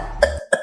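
A man coughs twice in quick succession, close and fairly loud, two short harsh bursts separated by a brief pause.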